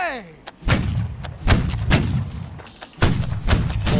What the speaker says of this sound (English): We're gonna do a ripple fire from left to right